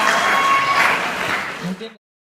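Brief applause and crowd noise at a student election debate for faculty BEM governor candidates, a dense busy burst with some murmuring voices mixed in, cutting off abruptly after about two seconds.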